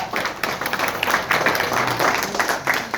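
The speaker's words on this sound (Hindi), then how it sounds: "तो मैं चाहूंगा कि हम लोग सब मिलके खड़े हो जाए और जो टीचर को अवार्ड मिला उनको ऑनर करें और ताली बजा रहे" Audience at a Mumbai Urdu teachers' best-teacher award ceremony applauding the honoured teachers, a dense, steady wash of many hands clapping close by for several seconds, with faint voices mixed in.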